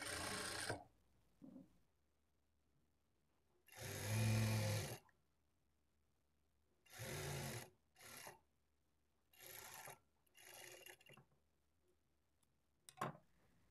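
A sewing machine stitching piping onto a blouse runs in short, separate bursts of rapid rasping stitches with quiet pauses between them, fairly soft and close, with no talking.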